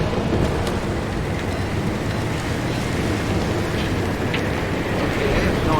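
Heavy rain pours steadily in a video game storm in Pacific Drive, with low rumbling thunder rolling underneath and occasional sharper drops, loud and continuous with no talking.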